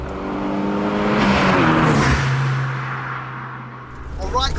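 A turbocharged Vauxhall Astra GTE with a 300 bhp turbo swap spools up and accelerates hard, the engine note climbing in a loud, sustained pull with turbo whoosh before easing off, then rising again at the end.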